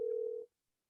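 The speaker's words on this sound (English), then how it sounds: "No, she hasn't answered her phone yet," A phone ringing over speakerphone, still unanswered: a single steady ringback tone sounds for about half a second and then cuts off, leaving silence.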